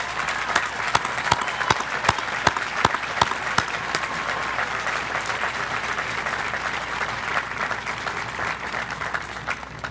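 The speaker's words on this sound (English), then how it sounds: "students, please give them a round of applause." Graduation commencement audience at Millersville University applauding, a broad steady roar of clapping from a large crowd, with a few nearby sharp claps standing out early before blending into the even wash.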